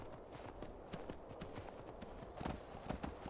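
Rapid clip-clop of a galloping horse in the video game Skyrim, hooves pounding in a quick, uneven rhythm at close range with faint game ambience underneath.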